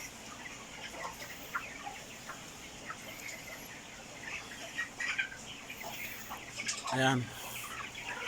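Twenty-five-day-old broiler chickens on a farm cluck and chirp faintly and intermittently, with a louder bird call near the end, over low background noise and a brief spoken word.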